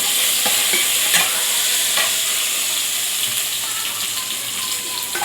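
Garlic and green chili fry in a pan for an okra stir-fry, giving a steady, close, hissing sizzle with occasional scraping stirs throughout and no talking.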